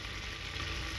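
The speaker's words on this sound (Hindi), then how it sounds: "कुछ देर हम इसे आलू और टमाटर को ऐसे ही पकाएंगे।" Potatoes and tomatoes cook in a pan with a steady, even sizzle and hiss, fairly close and unbroken, with no talking.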